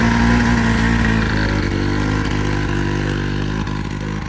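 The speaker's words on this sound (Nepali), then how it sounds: "हेर्नुहोस् बाइकहरूलाई तान्न नि धेरै गाह्रो भइरहेछ।" Motorcycles labour uphill on a rough mountain trail around Balangra Lek in Dolpa. A close, steady engine drone strains under load throughout, with slight wavering in pitch and no speech.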